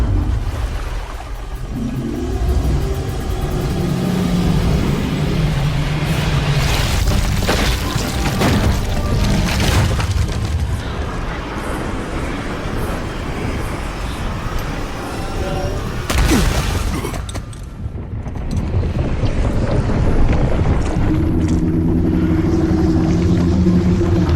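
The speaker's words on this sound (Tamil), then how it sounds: "படகு கவிழ போகுது." A boat capsizing in rough water in the video game God of War: a loud, continuous roar of churning waves with heavy crashing impacts and thuds, and a low musical drone underneath.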